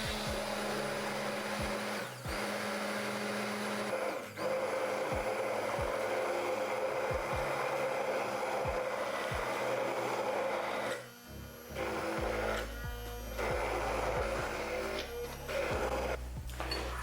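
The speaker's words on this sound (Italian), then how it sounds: "il mio uovo adesso sta all'interno del frullatore, accendo e lo tengo fermo lì per alcuni secondi" An immersion blender whirs steadily and loudly while emulsifying egg into homemade mayonnaise for Russian salad, with a few brief dips and changes in the motor's pitch as it is held in place.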